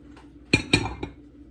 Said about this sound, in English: we're just going to put our shrimp back in there